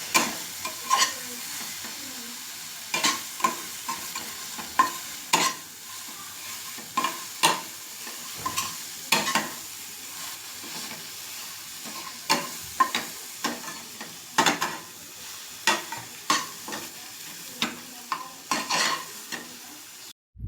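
Masala with red chilli powder sautéing in a pan, giving a steady soft sizzle broken by regular scraping strokes of a spoon against the metal, close and continuous with no one speaking.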